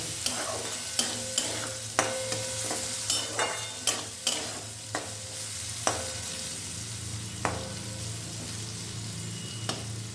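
Poha frying in ghee in a pan while being stirred, giving a steady close sizzle broken by repeated sharp clicks of a spoon against the pan.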